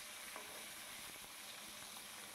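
Small tangra fish fry in very hot oil in a kadai, a constant loud hissing sizzle with faint scattered pops and no voices.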